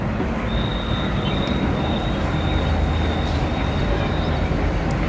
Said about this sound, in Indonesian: ada kereta apinya tuh, ada metronya tuh